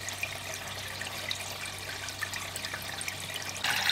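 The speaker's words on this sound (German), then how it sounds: "Der 150 Liter pro Stunde Dennerle im Einsatz" A Dennerle 150 L/h internal filter in a nano aquarium runs with a constant bubbling, trickling water outflow and a low steady hum, close and even, swelling slightly louder at the very end.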